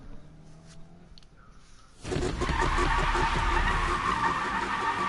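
A car drifting on a mountain road in Need for Speed, tires skidding in a loud sustained squeal with engine roar, starting abruptly after a quieter stretch.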